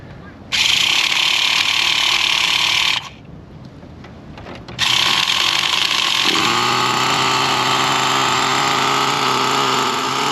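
Nitro engine of a Traxxas T-Maxx RC truck starts and runs loud and close, a high buzzing whine that cuts out briefly, then restarts and holds a steady, slightly rough drone.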